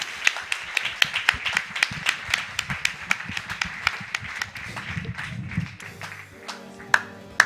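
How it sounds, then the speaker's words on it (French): Irregular hand claps ring out after a Metal Slug X speedrun at a live event, several people clapping in an uneven rhythm, with some murmuring voices underneath. "on peut l'applaudir une dernière fois"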